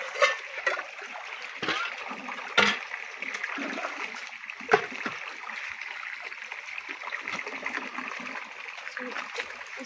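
Two spoons being washed in river water give small splashes and trickling sloshes against a steady outdoor flow, with a few sharper splatter bursts.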